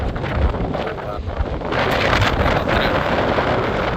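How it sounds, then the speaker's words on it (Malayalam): Wind gusting across the open deck of a ship, a steady broadband roar that swells louder partway through, with the rumble of the vessel beneath. "കാറ്റുമുണ്ട്."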